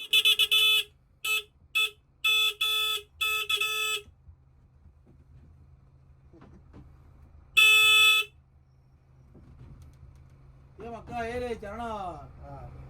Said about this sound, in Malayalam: അവസാനം ഹോൺ അടിക്കാൻ തുടങ്ങി.